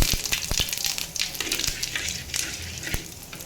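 Cumin seeds sizzle and crackle in hot oil in a wok, a steady close frying hiss with sharp pops and scattered stirring scrapes, no talk.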